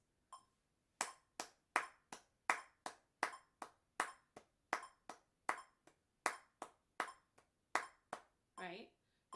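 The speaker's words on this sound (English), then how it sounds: "If we clap eighth notes," Hands clapping eighth notes in a music lesson, about twenty crisp, evenly spaced claps close to the mic in a quiet room, ending with a brief bouncing tone.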